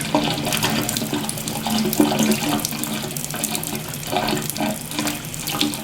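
Steady running water pours and splashes continuously in a sink as a gum bichromate print is rinsed, a close, even wash with slight shifts in tone.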